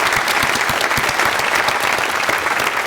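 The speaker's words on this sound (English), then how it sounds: "Give those Patreon supporters a round of applause." A conference audience applauds Patreon supporters: dense, steady clapping from a full crowd, loud and sustained throughout with no voices over it.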